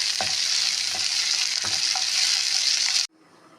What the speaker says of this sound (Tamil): முந்திரி பருப்பு இல்லாவிட்டால் பொட்டுக்கடலையும் சேர்த்து வதக்கலாம். சிறிது நேரம் வதக்கியவுடன் ஆஃப் பண்ணவும்.